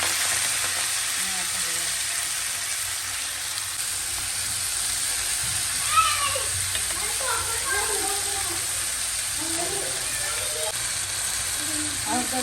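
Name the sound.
fenugreek greens with garlic frying in mustard oil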